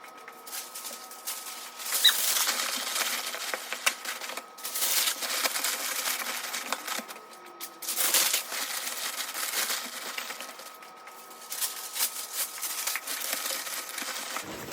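Packing paper is crumpled and stuffed into a shipping box, giving dense crinkling and rustling bursts that come in waves with brief pauses. The sound is close and fairly loud, with no talking.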